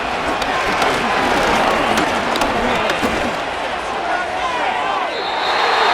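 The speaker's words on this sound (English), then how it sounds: "The crowd cranking it up another notch before 3rd and long." A stadium crowd roars steadily in Madden NFL 25 as the Seattle Seahawks face the Detroit Lions, a dense, loud wall of cheering swelling before a third-and-long play, with no clear voices on top.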